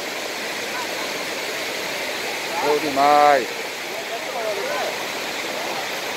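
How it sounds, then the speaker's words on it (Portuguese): Heavy water pours over the spillway of the Dr. Tibúrcio Soares dam in Acopiara, a steady, loud, broadband roar running throughout, with someone briefly speaking over it midway. "Barragem sangrando com bastante água,"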